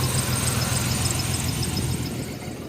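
A Chevrolet S10 Blazer 4x4 with true dual exhaust idles with a misfire, giving a steady, close low rumble and shaking drone with a faint high whine above it, fading slightly near the end.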